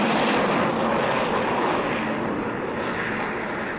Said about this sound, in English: Sounds like a plane of some kind